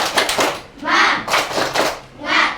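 A group claps a rhythmic 'tepuk semangat' chant, bursts of hand claps in a patterned beat mixed with chanting voices, close and lively.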